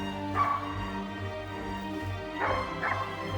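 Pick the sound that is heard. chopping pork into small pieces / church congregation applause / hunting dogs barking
hunting dogs barking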